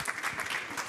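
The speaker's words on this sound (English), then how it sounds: "Please give her a round of applause." An audience at a morning coffee panel event at COP29 gives a round of applause for an introduced speaker, a dense steady wash of clapping throughout the brief moment.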